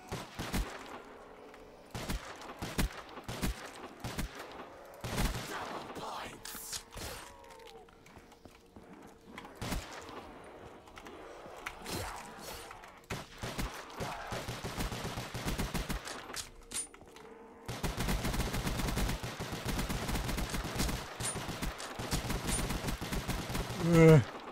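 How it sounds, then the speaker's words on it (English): Gunfire in the Call of Duty Zombies video game, with irregular sharp shots and short rapid bursts spread across the stretch and growing into denser firing near the end, with game clatter underneath. "Fire one of the guns at a time."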